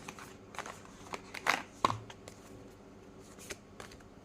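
Deck of Symbol Key oracle cards being shuffled and handled during a reading, soft close riffling and flicking with a couple of sharper snaps, faint and sparse against a quiet background.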